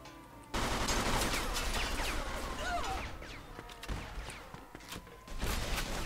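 Heavy gunfire erupts in sustained loud bursts in the video game Mafia II, dense rapid shots with crashes and a brief lull before firing resumes.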